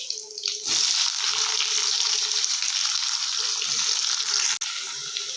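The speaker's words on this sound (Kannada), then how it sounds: "ಈರುಳ್ಳಿ ಕಲರ್ ಚೇಂಜ್ ಆಗುವವರೆಗೆ ಚೆನ್ನಾಗಿ ಬೇಯಿಸ್ಕೊಳ್ಳೋಣ." Chopped onions dropped into hot oil with cumin seeds and curry leaves, the fry turning into a loud, steady broadband sizzle after a brief quiet start, with a few stirring clinks, close up and alone.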